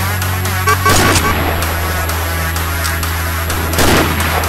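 Gunfire from the online shooter Combat Arms during a clan war, with a couple of heavy booming shots and bursts over a constant low game hum, no clear talk.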